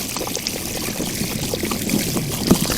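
Water drains out of a spa, a continuous close gurgling pour and trickle with a few louder splashy surges, alone with no talk.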